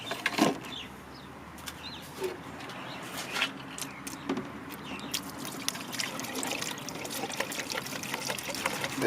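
Soapy water is poured into the washer reservoir of a Subaru Forester XV, trickling and gurgling softly for several seconds amid faint clicks and handling noises, quiet and close.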